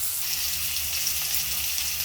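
Potatoes frying in a pan of oil for an okra and mustard curry, a steady close sizzle with low background hum and no voices.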